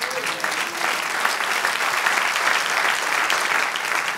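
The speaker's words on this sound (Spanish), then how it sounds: "Un aplauso al Señor" A church congregation applauds the Lord during a sermon, a dense, even roar of clapping from many people that holds steady at full strength without pause.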